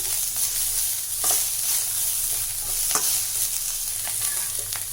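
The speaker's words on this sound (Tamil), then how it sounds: "இதை நல்லா வதக்கி விட்டுக்கலாம் இந்த வெங்காயம் நல்லா வதங்கணும்" Chopped onions sauté steadily in a hot pan for potato appalam kootu, a continuous close sizzle broken by a few brief stirring scrapes, with no talking.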